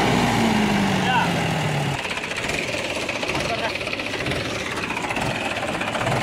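A tractor engine idles with a steady, low, rumbling drone. A rising tonal whine fades out after about two seconds, leaving a rough, noisy mechanical chug close by.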